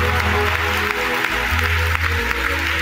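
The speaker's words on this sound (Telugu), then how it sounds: "కొట్టు చప్పట్లో" Sustained clapping from an audience at a Telugu Christian sermon, a dense steady wash of applause with a low hum beneath it throughout.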